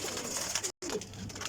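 A pigeon coos in soft, low, throaty bursts nearby, the calls broken by a momentary dropout partway through, with no talk.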